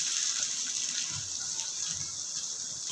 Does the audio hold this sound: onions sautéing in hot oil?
yes